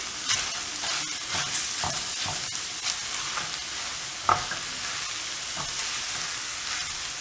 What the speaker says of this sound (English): I'm going to turn off my stove and I'll add all the spinach to it and mix it